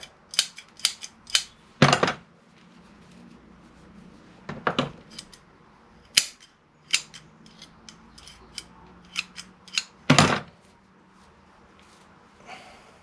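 Pruning scissors snip through trident maple bonsai roots during repotting, a series of sharp, crisp metallic cuts at irregular intervals, close and clear over a quiet background.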